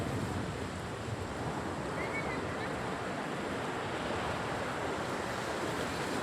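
Rapidly rising flood water in Calayo, Nasugbu roars steadily with a broad, surf-like wash and some wind buffeting, continuous and fairly loud throughout.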